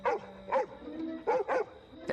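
A cartoon dog barks several times in short bursts during a chase in My Little Pony: Friendship Is Magic, close by, with irregular gaps between the barks.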